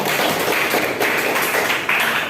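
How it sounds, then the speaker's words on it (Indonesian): Clapping in a classroom for a student named Bintang during a lesson on the Umayyad dynasty, a continuous, dense patter of many hands lasting a couple of seconds, fairly close and steady without talk over it. "Kasih tepuk tangan untuk Bintang."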